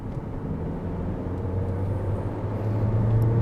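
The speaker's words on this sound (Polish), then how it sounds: "i gaz w podłogę" Jaecoo 7 SUV accelerating hard at full throttle from about 50 km/h on an open road outside town, a steady low engine drone rising slightly in pitch and loudness, with road and wind rumble inside the cabin and no talking.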